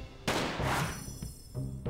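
Gunshots ring out in the game Mafioso: Gangster Paradise, a few sharp, loud reports spaced across a short stretch with booming tails.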